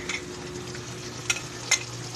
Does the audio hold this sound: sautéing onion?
yes